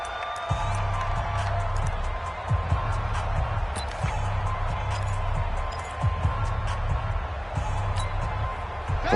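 Football stadium crowd in the fourth quarter ahead of a big third down: a broad, steady roar of cheering fans with scattered claps and shouts, continuous and moderately loud, with a commentator talking over it.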